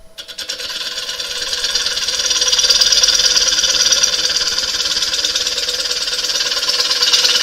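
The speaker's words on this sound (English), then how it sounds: "Speed the lathe up a little bit." A wood lathe runs steadily at speed, spinning a figured wooden blank during lacquer finishing; a dense, continuous mechanical whir rises slightly in the first few seconds and then holds loud and even, with no talking.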